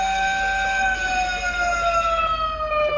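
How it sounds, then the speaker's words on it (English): A public safety alarm siren from the film Arrival sounds as a steady, loud, sustained wail whose stacked tones drift slowly downward in pitch, carrying on without pause from start to finish. "A public safety alarm, I guess?"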